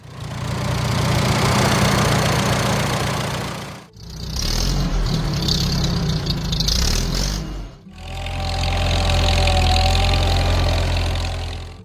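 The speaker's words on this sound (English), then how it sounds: "The Model H was a mid-range row crop tractor" An International Harvester Farmall Model H row-crop tractor engine idles with a loud, steady low rumble, heard in three separate stretches divided by short breaks.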